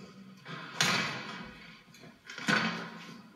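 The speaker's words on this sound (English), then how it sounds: "Just close this door." A house door being closed, heard as two distinct knocking thuds about two seconds apart over quiet room tone, moderately close.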